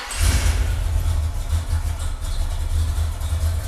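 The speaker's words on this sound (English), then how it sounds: "the car sounds really good" A car engine idles after a cold start with a low, steady rumble and a slightly uneven lope, close by and continuous, with no talking.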